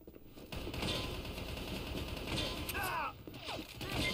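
M4 rifle fire in the online shooter Battle Carnival comes as rapid automatic bursts with a rattling mechanical texture at moderate distance. Brief electronic game chirps are mixed in.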